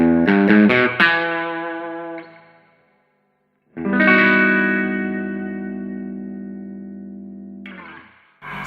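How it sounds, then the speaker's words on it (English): Electric guitar through a Marshall JTM60 1x12 combo amp with reverb turned up plays a quick run of notes, then a long sustained chord, both ringing out with heavy reverb tails that slowly fade. "I think the reverb is really nice, especially for that Western sound"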